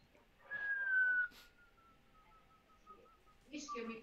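A person whistles a single long, sustained note that slowly falls in pitch, faint and close, during a chess game, with brief voices at the end.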